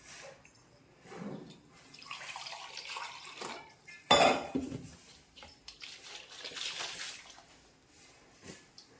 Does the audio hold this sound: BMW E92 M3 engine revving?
no